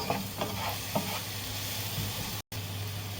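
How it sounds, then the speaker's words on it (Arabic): Spiced ingredients stirred together in a frying pan, with a soft steady sizzle and a few utensil scrapes near the start, broken by a brief silent gap; no speech. "هقلب بقى الحاجات دي كده مع بعض"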